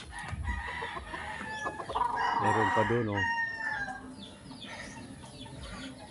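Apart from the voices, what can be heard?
chickens clucking and rooster crowing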